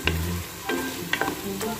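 Shrimp sinigang is stirred in a cooking pot with several distinct scraping strokes over a steady background of simmering and sizzling, close and clear.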